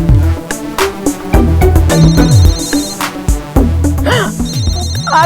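Phone ringtone in a Hindi TV drama scene, a loud melodic tune repeating over several seconds with layered background music and no talking.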